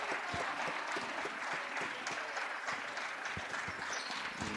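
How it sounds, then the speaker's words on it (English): A crowd at a women's college basketball game gives a sustained ovation, dense steady applause filling the whole stretch with scattered sharper claps and faint cheers in a gym. "Gets a good little ovation from the crowd here."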